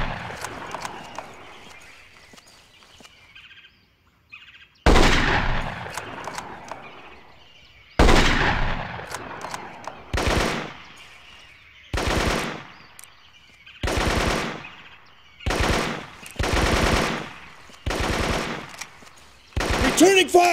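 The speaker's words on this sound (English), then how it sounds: "Returning fire!" Firefight from the jungle warfare video game Marine Sharpshooter 2, with repeated loud bursts of rapid automatic gunfire separated by short pauses, preceded by quieter ambient rustling and distant shots.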